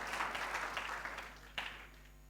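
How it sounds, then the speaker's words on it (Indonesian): Congregation applauding during a Sunday church sermon, a burst of many hands clapping that fades, then a short second swell before dying away. "Berikan tepuk tangan."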